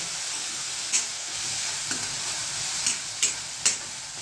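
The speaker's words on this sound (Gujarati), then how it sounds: "મસાલા તમે તેલમાં ફ્રાય કરો ને તો મસાલામાં સ્વાદ આવે." Spices fry in hot oil with a steady, close sizzling hiss, and a few sharp scrapes or clinks of stirring come at irregular moments. No one speaks.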